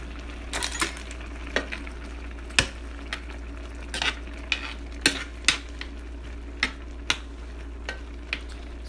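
Spicy Korean noodles with kimchi stirred in a pan, a low sizzle under repeated sharp utensil clicks and scrapes against the pan at an irregular pace, close by with no talk.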